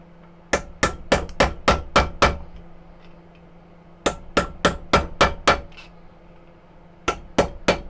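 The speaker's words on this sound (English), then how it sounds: "keep chiseling with a screwdriver or a chisel" Hammer blows strike a chisel or screwdriver, chiseling out holes in a homemade 1917 frontier Bowie knife handle, in three quick bursts of sharp, loud, evenly spaced knocks with short pauses between.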